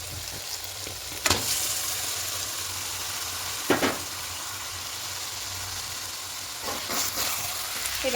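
Marinated chicken frying in hot oil with spices, a steady broadband sizzle throughout with a few sharper bursts as pieces are added and stirred, fairly close and alone.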